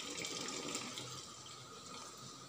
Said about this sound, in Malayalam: അപ്പോൾ ഞാനിതിലേക്ക് വെള്ളം ഒഴിച്ച് കൊടുക്കുകയാണ്.